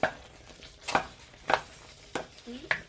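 Cooked yam being crushed for yam porridge, with about five separate soft thumps against a pot at a steady slow pace, close and fairly quiet with no talking.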